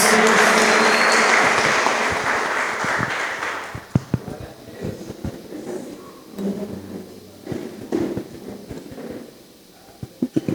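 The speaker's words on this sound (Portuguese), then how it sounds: "Aplauda bem forte ao Senhor Jesus." Church congregation bursts into loud, dense applause that fades over several seconds into scattered claps, thumps and room noise.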